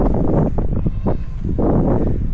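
Strong gusts buffet the microphone in loud, low rumbling blasts that swell and ease repeatedly, with no voices heard.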